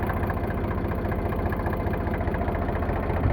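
An Eicher 368 tractor diesel engine, in good running order, idles close by with a steady, even low chugging throb that holds unchanged throughout, with no voices.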